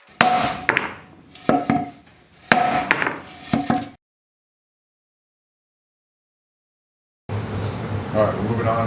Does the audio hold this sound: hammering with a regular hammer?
yes